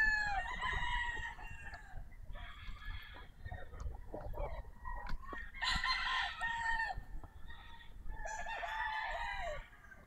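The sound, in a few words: Sweater gamefowl broodcock rooster crowing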